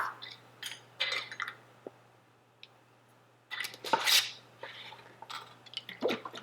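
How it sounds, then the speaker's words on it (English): A glass jar of garlic dill pickles in brine has its lid put on and is shaken, giving bursts of clinking and sloshing rattles separated by quieter pauses, close and fairly loud. "we're gonna put the lid on it and give it a good shake"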